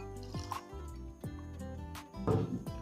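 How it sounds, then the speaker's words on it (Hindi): Water poured into a glass of Whistler whisky makes a brief splashing trickle near the end, over steady background music with no talk. "हल्का सा इसमें पानी डालते हैं, थोड़ा सा इसको डाइल्यूट करते हैं।"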